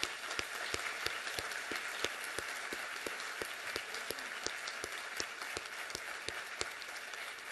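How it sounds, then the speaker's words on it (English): An audience at the Golden Horseshoe Day 2021 ceremony applauds its award winners with steady, evenly spaced clapping, a faint, distant patter with a few sharper individual claps standing out. "One more round of applause for our winners this year."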